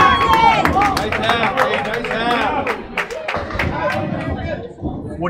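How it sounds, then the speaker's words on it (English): A packed crowd at Academy Lanes bowling alley in Haverhill, Massachusetts, during a mixed bowling match, with lively cheering, clapping and babble close by, and a voice talking over the noise. "Great crowd here. The place is packed here."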